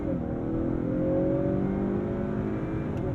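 A 2022 Honda Accord Sport 2.0T accelerates hard from inside the cabin, engine note rising steadily in a continuous strained drone with no talking.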